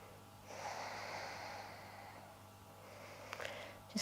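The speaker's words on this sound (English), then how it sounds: "just taking a few deep breaths here." A person breathes deeply during a gentle neck and shoulder stretch, one long slow audible exhale drawn out close to the microphone, followed by a quieter pause and a brief sniff near the end.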